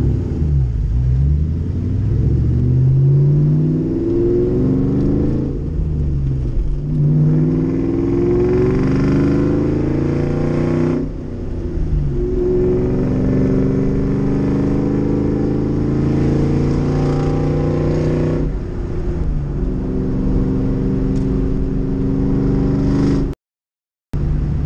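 A Cobra roadster on cold race tires revs and accelerates hard, its loud rumbling exhaust rising and falling through repeated pulls with crackling pops, close by and without talk, cutting to silence near the end.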